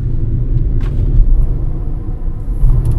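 A BYD Atto 1 electric car accelerates in normal mode, heard from inside as a steady low road rumble and hum with no engine roar, fairly loud and continuous throughout.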